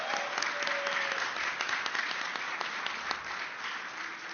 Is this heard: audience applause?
yes